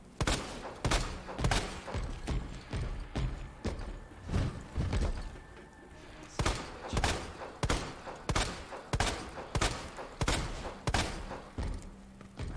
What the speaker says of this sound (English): How many bullets did it take to take him out with a pistol?